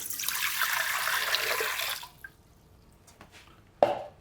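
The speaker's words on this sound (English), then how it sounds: "So cool water at the bottom of the bowl." Cool water pours into a mixer bowl for baguette dough, a loud steady splashing stream for about two seconds that stops abruptly, followed by faint drips and one short sharp clink near the end.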